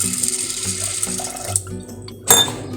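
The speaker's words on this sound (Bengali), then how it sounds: "ছোলার ডাল বার করে নিয়েছি একটু জল দিয়ে ধুয়ে নেবো" Split chickpeas (chana dal) are rinsed with water in a home kitchen: close sloshing and trickling for a couple of seconds, a brief pause, then a sharper splash near the end, with no talk.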